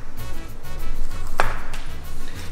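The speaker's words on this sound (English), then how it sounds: "it's gonna cut it in fine slices" A knife slices a serrano pepper on a cutting board, a short run of quick, close chops with one sharp ringing tap of the blade partway through.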